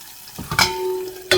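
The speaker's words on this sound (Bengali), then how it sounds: "আর একটু ভাজা দিই মশলাটা" Dried loitta fish (Bombay duck shunti) frying with spice masala in a pan, giving brief bursts of sizzle and stirring scrapes with a steady tonal hum underneath, close and moderately loud.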